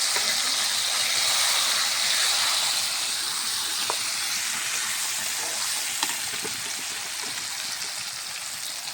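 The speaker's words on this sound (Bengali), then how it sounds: "তেলে দিয়ে দিলাম শাক।" Spinach hitting hot oil in a pot, a loud, dense sizzle that holds steady and eases slightly, with a few faint clicks, close and alone.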